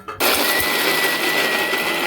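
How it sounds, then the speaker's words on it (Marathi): A mixer grinder whirs loudly and steadily after a brief start while grinding dry ingredients to powder, a dense high-pitched motor roar with a faint whine, no voices. "आता आपण मिक्सर फिरवून झालं"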